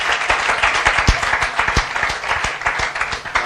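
A crowd claps steadily for a few seconds, dense overlapping applause filling the room with sharp hand claps standing out.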